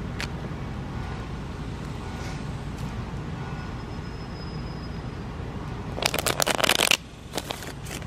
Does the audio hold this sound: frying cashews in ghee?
no